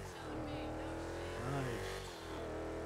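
An Albany Franken Stange sports classic car drifting in the video game GTA 5, its engine droning steadily with a brief revving rise in the middle, fairly quiet throughout.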